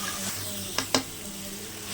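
Onion masala sautéing in a pan for egg podimas gives a steady soft sizzle with two brief stirring clatters, close and moderately loud, with no voice over it.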